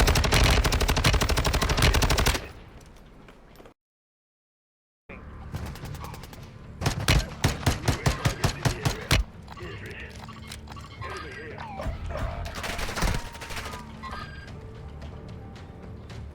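Gunfire in a shooter video game: dense, loud automatic fire opens the stretch, then a sudden silent gap, then a rapid volley of distinct shots and more scattered firing, with people talking throughout.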